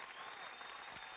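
Studio audience applause for guest Erik Parker, a brief dense burst of steady clapping.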